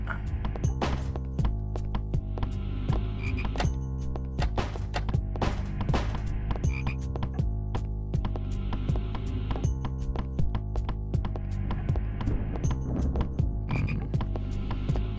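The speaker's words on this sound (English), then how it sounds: "Still confused by the frogs though." Frogs croak repeatedly in a video game, steady rhythmic calls over a busy layer of game music and clinking effects, with no talking.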